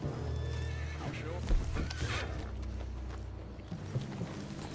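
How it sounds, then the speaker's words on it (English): A horse in Red Dead Redemption 2 lets out a loud, shaky neigh over a low game ambience and soft hoof clops, with a voice speaking over the scene. "What's wrong with this horse?"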